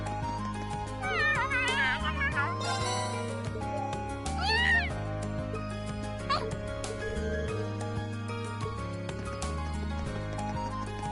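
Cat meowing in Trails of Cold Steel, a few short mews scattered over looping game music, each brief and moderately loud, with background audio continuing throughout.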